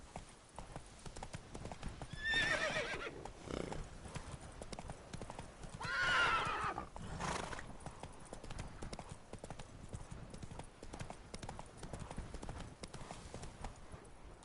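Roach the horse gallops in The Witcher 3, steady rhythmic hoofbeats throughout, broken twice by loud whinnies, with a faint voice in the background.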